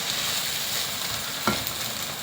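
Rice stir-fried in a pan with its cooking water, a continuous close sizzle with a brief louder scrape of the spoon midway, no voices.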